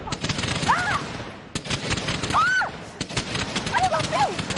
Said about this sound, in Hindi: इकट्ठे से सारे पटाखे फोड़ रहा है